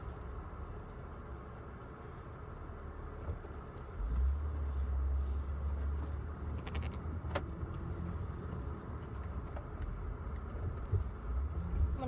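A car driving along, recorded from inside the cabin on the way to a store before a hurricane, giving a steady low rumble with some wind noise that holds throughout.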